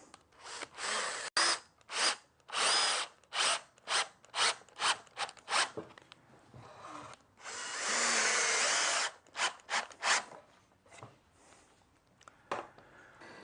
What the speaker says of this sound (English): And just for added strength, pop one screw through the ends.